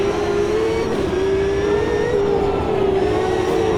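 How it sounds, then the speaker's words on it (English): A racing car engine in the Automobilista 2 video game holds at the rev limiter, a loud, sustained buzzing drone that wavers slightly in pitch and never drops off, with no talking. "Hitting that rev limiter again."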